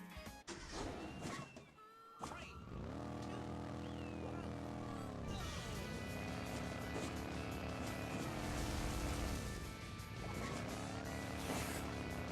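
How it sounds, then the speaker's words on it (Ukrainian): Lowrider car engine in the mobile racing game Hill Climb Racing 2, a steady low, throbbing hum that dips and rises as the throttle eases and returns, continuous and up front for most of the clip. "Чуєте, як двигунчик?"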